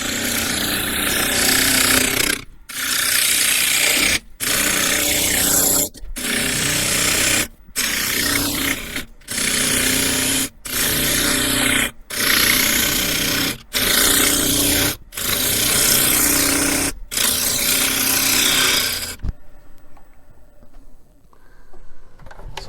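A Harvey T-40 wood lathe turns a walnut bowl while a tool cuts, giving loud, harsh rasping bursts broken by regular short pauses, then the machine runs on alone with a quieter hum.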